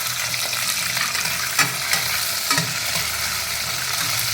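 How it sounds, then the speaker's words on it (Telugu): Onions sizzling steadily in a hot pan with cumin seeds, curry leaves and green chillies for khichdi, with a few sharp scrapes and clicks as a spoon stirs them, close and fairly loud throughout with no voices. "ఎర్రగడ్డలు ఎక్కువగా వేగనక్కర్లేదండి, ఎలాగూ అన్నీ కుక్కర్లో ఉడకాలి కాబట్టి"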